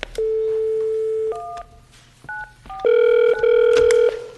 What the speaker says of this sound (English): let me get Megan on the phone